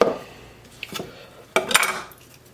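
A knife cuts through an onion into wedges on a cutting board with a few sharp clicks and taps. A louder clatter follows near the end.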